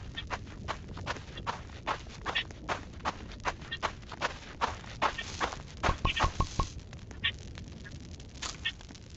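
Irregular thudding footsteps of a goat creature in the video game Nights in the Forest, clopping and scuffling at a moderate pace, with faint bird-like calls in the background.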